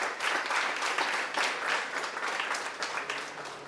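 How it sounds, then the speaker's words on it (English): An audience at a free AI certification training session applauds two presenters, with a dense, even clapping that stays steady and fairly loud throughout. "we must give a huge round of applause to Akshita and Praveena"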